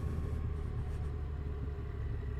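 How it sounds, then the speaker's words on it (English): A motorcycle rolls along with the throttle shut off completely, its engine a close, low, steady rumble without any sharp bursts. "The bike is moving. We're giving it a bit of gas. Shut off the gas completely."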